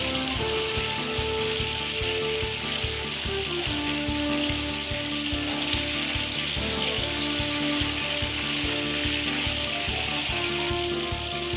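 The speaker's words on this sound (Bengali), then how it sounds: "উল্টে অপর দিকটাও 4 মিনিট ভেজে নেব।" Chicken pieces sizzling in hot oil after being flipped to fry the second side for a Kashmiri chicken masala curry; a constant, loud, close crackle runs under background music for the whole stretch.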